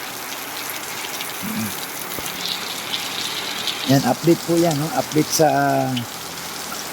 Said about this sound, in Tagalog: Tatamarin ka po talaga kung ganito naman kalakas ang ulan.